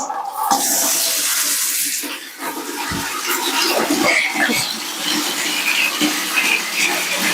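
Water splashes and gushes while a bucket is rinsed out during laundry, loud and close, with sloshing and a few knocks against the bucket throughout.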